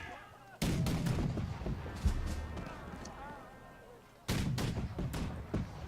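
Cannon artillery fire in the strategy game March to Glory, two heavy booming volleys with dense crackling musketry, set against background battle noise and some speech.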